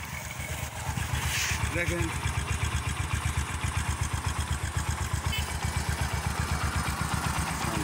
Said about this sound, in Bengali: ইঞ্জিনের সাউন্ড শোনেন, ইঞ্জিন স্টার্ট আছে